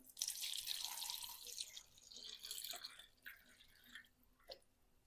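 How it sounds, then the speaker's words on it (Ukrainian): Water is poured into a cloth-lined pot holding glass jars of marinated sweet peppers for sterilizing, a close, quiet splashing pour that fades into a few scattered drips and trickles. "Заливаю водичкою."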